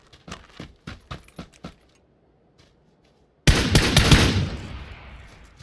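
Gunfire in the video game PUBG: a quick series of sharp shots, then a short lull, then a loud burst of dense, sustained firing or impact noise that fades.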